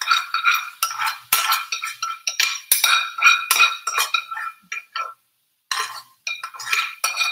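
Sauce is stirred into soft noodles in a skillet for a paleo keto pad thai, with a utensil clinking and scraping rapidly against the pan in close, busy bursts and a brief silent pause partway through.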